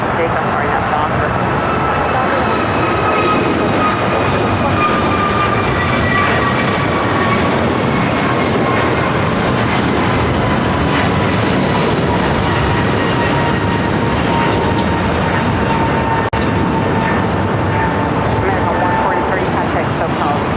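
A jet airliner takes off from runway 25 right at LAX, a loud, steady broadband roar with a rising engine whine that holds for the full twenty seconds, with voices talking over it.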